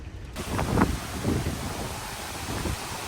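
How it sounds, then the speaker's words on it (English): Strong hurricane wind gusts battering a microphone outdoors beside an RV, a steady roaring rush with a few heavier buffeting surges. "these gusts of wind"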